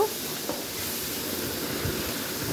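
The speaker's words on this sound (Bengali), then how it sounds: "গন্ধ ছাড়িয়ে নেওয়ার জন্য আমি আদা রসুনটাকে ভালোভাবে কষিয়ে নিচ্ছি" Ginger and garlic paste with turmeric, chili and coriander powder sizzling as they are fried in a pan. A steady close hiss and sizzle runs throughout with no voices.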